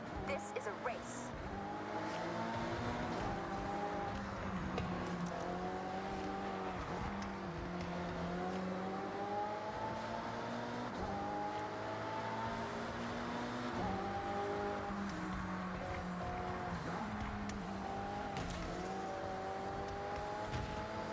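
Race cars roar through a Forza Horizon 6 race, their engines rising and falling in steady up-and-down revs through gear changes, a continuous loud drone that fills the whole stretch.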